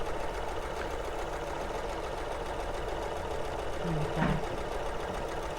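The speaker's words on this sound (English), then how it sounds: "Such a lovely sound. I always think with the sewing machine, it's just kind of, I don't know, relaxing." A sewing machine stitches a quilt in a steady, continuous mechanical whir that runs the whole time at a close, even level, with a brief remark spoken over it near the end.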